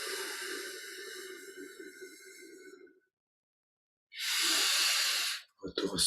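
Slow, audible exhalations through the nose or mouth during a guided yoga session, a long hissing out-breath followed after a pause by another strong breath, close to the microphone.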